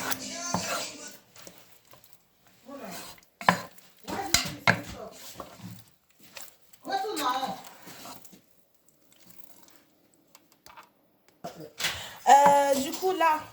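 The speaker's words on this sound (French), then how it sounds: "On va mettre les œufs et on mélange entre chaque œuf qu'on met" Eggs being stirred one at a time into choux pastry dough for cream puffs, heard as intermittent scraping and clinking bursts with quiet pauses between them.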